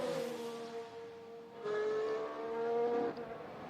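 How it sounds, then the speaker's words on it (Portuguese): A Formula 1 car, number 26, passes during qualifying at the 2020 Austrian Grand Prix, its steady high engine tone shifting pitch as it approaches and moves away, a loud sustained whine with no voices. "Você está vendo o carro numeral 26 do Daniel Kvyat."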